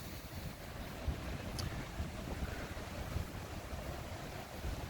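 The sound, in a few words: fast-flowing creek after recent rains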